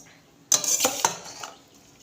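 A metal spoon clinks and scrapes in a pan while stirring fried rice with carrots, beans and peas, a few sharp close strikes over about a second and a half.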